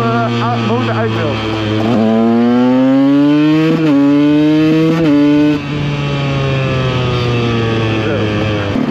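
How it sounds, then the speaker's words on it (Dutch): A KTM EXC 125 two-stroke motorcycle accelerates hard and close up, its buzzing engine climbing in pitch through several gear shifts, each marked by a brief drop, then pulling loud and steady. "Even kijken hoe snel mijn motor uit wil."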